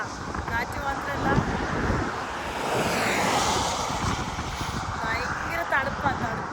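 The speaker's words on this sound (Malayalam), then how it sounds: "തണുത്ത കാറ്റ്." Cold wind buffets the microphone at a rainy roadside at night, rising into a broad gust midway, with faint voice sounds in places.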